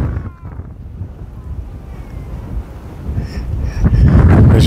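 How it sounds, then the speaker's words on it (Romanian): Strong wind buffets the microphone in Canada, rumbling and growing louder toward the end, with a faint rushing background like open water. "Deci bate un vânt."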